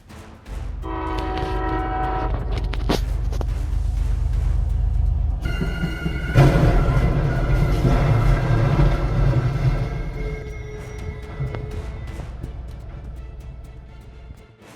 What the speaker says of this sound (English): a train speeds in with no chance of stopping, crashing straight into a stock semi-truck